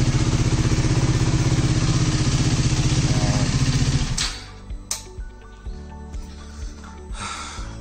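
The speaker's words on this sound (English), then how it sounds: "Run the bike for a minute or two." A KTM Duke 390 motorcycle engine idles steadily and loudly with a rhythmic pulsing for about four seconds, then cuts off, leaving faint clicks and clatter.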